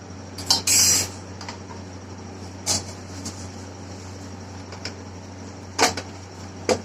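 A metal stand is set into a pot in a home kitchen, giving a few sharp metallic clinks and clatters, the loudest early on and then scattered single taps, over a quiet background hum.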